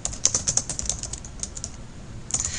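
Typing on a computer keyboard while entering comment text in mind-mapping software: a quick run of crisp, close key clicks in an uneven rhythm that thins out, with a final short cluster of taps.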